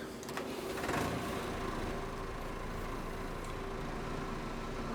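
An old 3090T tractor in a Scottish Highlands farming video game idles with a steady mechanical drone and a faint whine, holding a constant level throughout with no talk.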